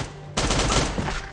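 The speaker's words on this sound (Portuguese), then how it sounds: "Vamos dar um tiro nesse aí" A sudden burst of gunfire from a firearm in the survival video game Last Day On Earth, starting abruptly after a quiet moment and ringing out loud and rapid for about a second.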